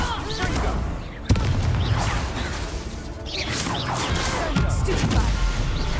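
Confringo spell blast in Hogwarts Legacy, a sharp explosive crack followed by whooshing spell impacts and rumbling booms amid combat, with voices shouting over the action.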